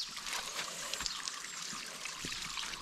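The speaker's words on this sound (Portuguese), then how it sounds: "É assim que eu vou beber água, ó." Water trickles and pours steadily as a man drinks outdoors while taming a bull, a soft continuous splashing stream with faint thumps, no talk over it.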